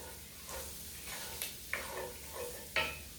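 Sausage drippings and fat being stirred in a pan for gravy, giving a soft, steady scraping and stirring with a faint sizzle and a few sharper clinks of the utensil against the pan, heard alone without talk.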